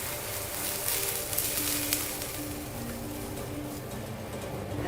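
A milk mixture is stirred in a pan over a flame, with a soft, steady sizzle and faint scraping strokes running throughout.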